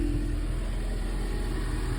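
Ford EcoBoost Mustang engine running after a misfire repair, a low steady idle hum, even and continuous with no stumbles, heard alone at moderate level.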